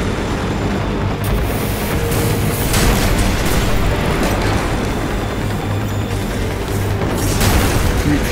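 Fire attacks from the Firebug boss in The Surge roar and rumble continuously, dense and loud, with bursts and booming blasts layered over a constant crackling wall of game noise.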